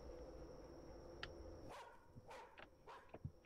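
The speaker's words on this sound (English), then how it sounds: "Dog." A dog barks a few times somewhere in a quiet Japanese town at night, short faint yaps spaced over a couple of seconds after a steady low background hum, with no one talking.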